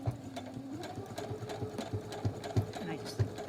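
A sewing machine back-stitches a fabric face mask seam, giving a steady rapid mechanical whir with rhythmic thumps. It runs in short bursts, close and fairly quiet, with a person talking over it.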